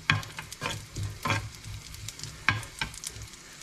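Raisins frying in a pan for an Eid roast, soft sizzling with bursts of stirring scrapes every second or so, close and fairly quiet.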